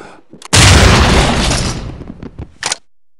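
A Stinger grenade detonates during a SWAT 4 police entry: one loud, sharp blast that rings out and slowly decays over about two seconds, followed by a brief clatter and a short burst of noise.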